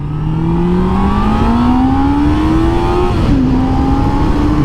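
A motorcycle engine revs loudly and close, its pitch climbing steadily, dipping with a gear change, then rising again over constant road rumble.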